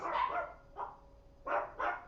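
Chihuahuas barking a few rooms away, four quick yappy barks in two pairs with short pauses between, faint against a quiet background.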